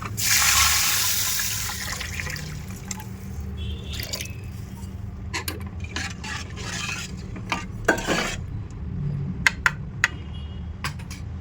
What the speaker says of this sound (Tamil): இதை வதக்கிட்ட பிறகு நம்ம இப்போ புளி தண்ணி சேர்த்துக்க போகிறோம்